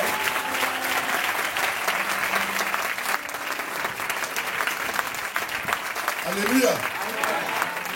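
A church congregation at a pastor's anniversary celebration breaks into sustained loud applause, a dense crowd clapping close by, while a voice briefly calls out over it.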